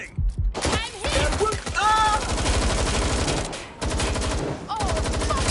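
Rapid video game gunfire rattles loudly and almost continuously, with brief gaps, under and between excited voices.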